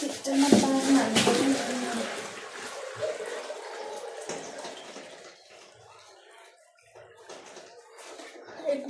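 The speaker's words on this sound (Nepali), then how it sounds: "गाइस सिस्टममा पानी हाल्नु" Water is poured into a water filter system, with a burst of splashing and gurgling at the start that thins into softer trickles and faint drips, ending in a brief slosh.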